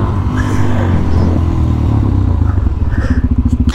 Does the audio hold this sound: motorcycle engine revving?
yes